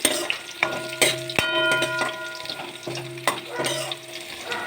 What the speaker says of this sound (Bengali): আমি গাজরটাকে বেশ কিছুক্ষণ নাড়াচাড়া করে দেখুন সুন্দর ভাজা ভাজা করে নিয়েছি